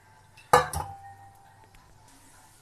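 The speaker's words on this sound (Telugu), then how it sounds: "ఇలా మొత్తం వేసుకొని కలుపుకోవాలి" A pot of horse gram rasam is stirred with a metal spoon, giving two quick bright clinks followed by a fading ring and near silence.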